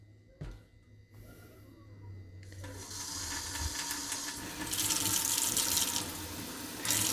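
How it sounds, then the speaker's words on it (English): Water running from a tap into a container of fermenting seeds: a brief clunk, then a hissing stream that grows louder and fuller as the vessel fills, continuing steadily to the end. "I can just fill the container back up with water, swish it around, and pour off again"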